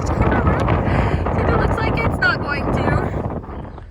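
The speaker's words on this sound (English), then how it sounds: "it's kind of windy" Heavy wind buffets the microphone in a constant low rumble, with faint scraping and clicking sounds underneath.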